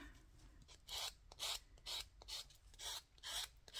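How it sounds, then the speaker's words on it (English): A sanding block rubs against a paper edge in about seven short, rasping strokes, steady and close, with no talking. "trim with my new sanding block"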